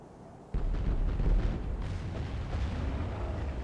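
Cannon fire thunders across a Medieval 2 battlefield, a sudden heavy boom that swells, then settles into a rolling rumble of further distant shots, with no voices.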